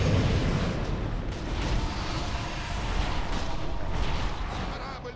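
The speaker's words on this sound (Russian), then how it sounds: "Корабль под обстрелом." Ship cannons fire in a video game raid battle, a dense, rumbling barrage of booms and blasts that stays loud and continuous throughout.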